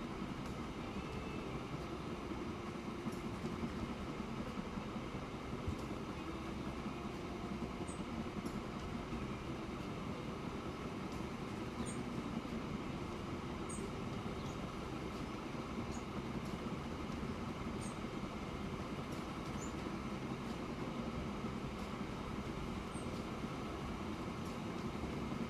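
Steady train rumble running along a railway in a railway video game, a continuous even drone lasting throughout with faint higher squeaks, and no one speaking.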